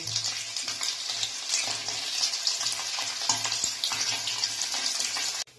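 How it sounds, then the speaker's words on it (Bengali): Paneer pieces fry in a pan with steady, close oil sizzling and crackle, broken by occasional stirring scrapes, running continuously until an abrupt stop near the end. "এরকম করে বাকি সবকটা পনিরকে আমি ভেজে নেব।"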